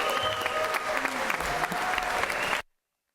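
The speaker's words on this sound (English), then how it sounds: "Let's give them a big round of applause." Loud, sustained applause from the floor of the Georgia Senate chamber for the pages on the final day of session, steady crowd clapping that stops abruptly near the end.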